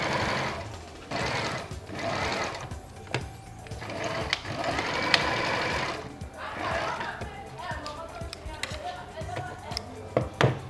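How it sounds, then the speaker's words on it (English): Sewing machine running steadily, top stitching the lining of a double-vent suit blazer at the chest pocket, a continuous whirring hum with rhythmic needle ticks and brief pauses throughout. "You can see I'm top stitching on the lining."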